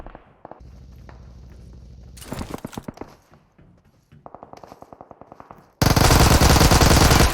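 Thompson submachine gun fire in PUBG Mobile, with rapid automatic bursts of shots alongside mechanical clicks and handling noises, ending in a loud sustained stream of gunfire, with no speech.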